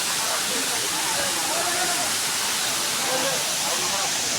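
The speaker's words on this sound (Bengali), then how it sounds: "এই ওয়াটারফলসের জল নেমে আসছে এই ওপর থেকে।" A waterfall at Ajodhya Hills in Purulia pours in a dense, steady roar that fills the whole clip, with muffled voices faintly beneath the rushing water.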